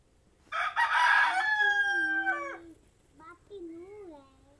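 Two roosters and an old hen kept at a mud house crow and cluck close by, with one long crow followed by shorter wavering calls and a voice faintly in the background.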